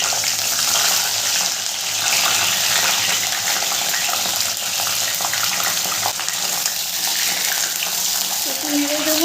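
Sliced flat beans hiss and sizzle as they hit hot mustard oil tempered with nigella seeds, a loud, steady bright crackle that carries on without pause.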